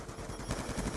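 Gunfire in the shooter game Black Ops 2, a quick loud run of close, overlapping blasts with rapid rhythmic pulses over about a second, no voices heard.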